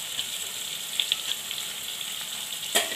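Cut radish pieces fry in plenty of oil for a Tamil kara kuzhambu, giving a soft continuous sizzle with a few faint clinks and a sharp utensil knock near the end.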